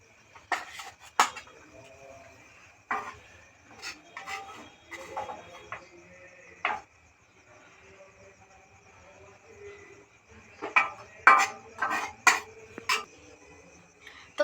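Metal utensils clink and scrape against a dish while chow mein is served out, in scattered bursts of close, sharp knocks over a faint steady hum.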